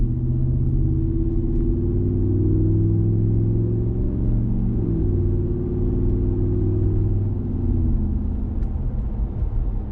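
A Ram 1500 with the 5.7 Hemi and a Borla S-Type catback exhaust accelerates gently, its deep, even exhaust rumble holding loud and close as the engine note climbs slowly.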